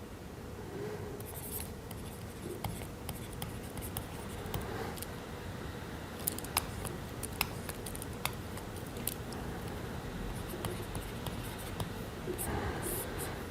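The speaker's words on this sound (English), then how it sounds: "Let me write those derivatives as well." A pen writing notes on paper, steady scratchy strokes with soft taps and a few sharper clicks, close and quiet, running continuously without talk.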